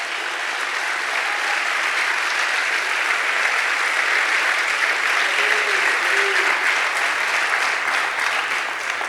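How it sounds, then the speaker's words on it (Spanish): Sustained applause from a church congregation fills the room steadily for the full stretch, dense and even, with faint voices calling out beneath it. "Dale aplauso a nuestro Dios."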